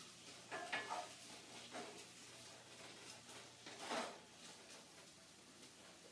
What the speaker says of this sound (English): So I've got those onions cooking.